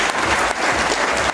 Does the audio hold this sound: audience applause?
yes